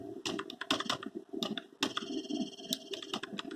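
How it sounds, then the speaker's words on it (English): Computer keyboard arrow keys tapped while nudging an engraving layout on a laser engraving setup, a quick irregular series of close, crisp clicks with brief pauses, no talking. "I'll use the keyboard arrows"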